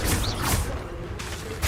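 The Confringo fire spell in a Harry Potter wizarding game, Hogwarts Legacy, bursts out as a loud, rushing blast of magical noise, followed by further whooshing impacts, dense and close, with no voices.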